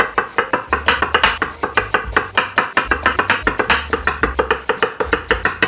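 A knife cuts small potatoes into eighths on a board for goulash, giving a rapid, steady run of close, crisp chops with a low hum underneath.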